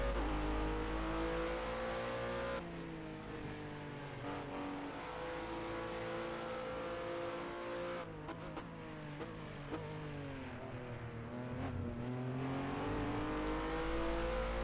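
Race car engines in a Project CARS 2 replay scream and rev through gear changes, pitch climbing and dropping repeatedly, with faint tire squeal and engine whine of a car passing, no talk.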